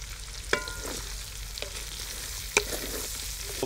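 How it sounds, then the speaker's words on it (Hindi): Onions frying with garlic and ginger in a karahi for street-style charsi chicken karahi, a steady soft sizzle with a few sharp clinks of a spoon against the pan. "प्याज शामिल करने के बाद जो है इसको भी अच्छी तरह भून लेंगे, प्याज को हल्का सा ब्राउन कर लेंगे"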